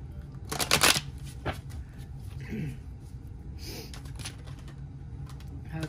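Tarot cards being shuffled up close, a crisp flurry of riffling snaps followed by a few lighter shuffles and soft card slaps, with faint room noise between bursts.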